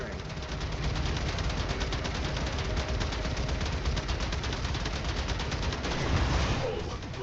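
Rapid, sustained weapon fire from a ship battle in the video game Warframe, a dense continuous barrage of rattling shots that holds steady and loud throughout, with game voice lines briefly over it.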